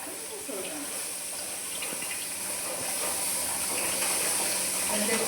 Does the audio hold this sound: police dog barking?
no